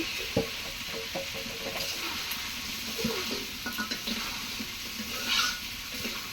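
Food sautéing in a pan for a Bengali home-cooked dish, a steady close sizzle broken by scraping stirs and light clinks of the spatula against the metal.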